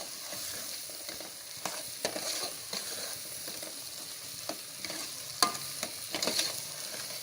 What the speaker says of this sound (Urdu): اچھی طرح چمچ ہلاتے رہیں گے۔